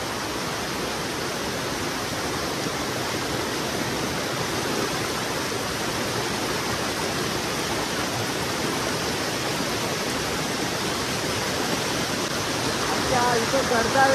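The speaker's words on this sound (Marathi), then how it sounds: "पाण्यात चालायलाच नाही जमत आहे, पाणी पुन्हा लोटात नेत आहे पुढे पुढे" A fast-flowing stream strong enough to push a person wading through it in the Konkan countryside, a loud constant rushing roar close by without pause.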